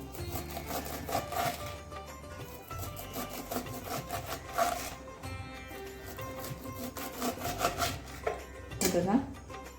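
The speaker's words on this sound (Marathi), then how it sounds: "अशी चाकूच्या सहाय्याने व्यवस्थित बारीक बारीक कोथिंबीर सगळी चिरून घ्यायची आपल्याला" A knife finely chops fresh coriander on a board with rapid, continuous close taps and scraping strokes, moderately loud, with a few brief pauses between bursts.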